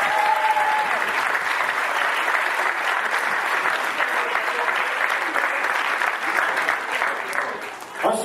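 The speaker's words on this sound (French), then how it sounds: "Merci d'applaudir les jeunes arbitres du club" A crowd at a youth football club tournament awards ceremony claps for the club's young referees, sustained and loud applause of many hands, fairly close, swelling briefly again at the very end.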